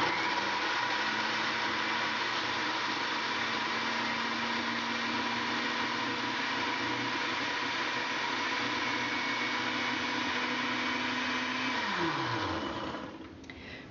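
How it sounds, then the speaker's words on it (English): A blender whirs loudly and steadily at close range for a long stretch, blending garlic, ginger and sesame paste into a dressing, then spins down and stops. "Then just put the lid on the blender"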